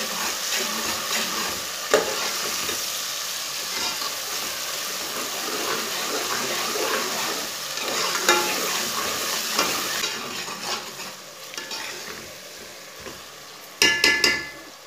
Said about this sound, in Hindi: तीन सब्ज़ मिर्चें डाल लेंगे टमाटर डाल के तीन मिनट तक पका लेना